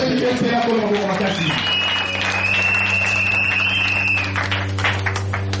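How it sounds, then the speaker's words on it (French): Loud audience applause fills a church gathering, dense clapping running throughout beneath a sustained tone and a steady low hum, without clear talk. "acclamez très fort"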